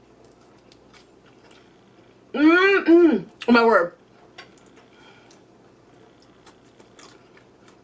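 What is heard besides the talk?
crunchy air-fried food being eaten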